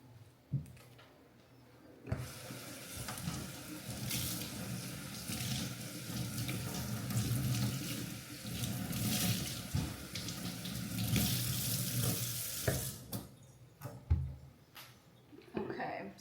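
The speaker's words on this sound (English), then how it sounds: "let me wash the cilantro for this next salsa I'm making" Tap water runs steadily into a kitchen sink as cilantro is rinsed for salsa, a broad hiss that starts abruptly, swells and cuts off near the end, with soft handling noises.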